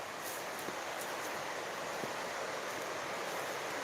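Steady broadband rush of creek water flowing over rocks outdoors, continuous and fairly loud with no pauses, a few faint high ticks scattered above the wash.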